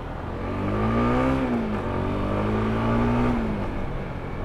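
A new motorcycle with a quiet stock muffler, its engine giving a smooth, steady hum that swells gently twice as the revs rise and ease, close and continuous.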